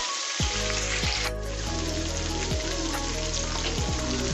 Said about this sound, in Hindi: और हम चिकन को फ्राई करेंगे तब तक जब तक ये अपना